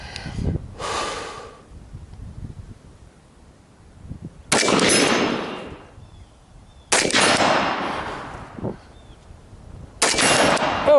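Gunfire during a CSAT 100-to-7 shooting drill, with three loud, sharp shot bursts spaced a couple of seconds apart, each ringing off briefly. Heavy breathing and movement noise fill the gaps between them.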